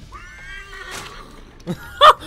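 Horse neighing in the video game Assassin's Creed III, a short whinny near the end of a brief clip with faint game sounds before it.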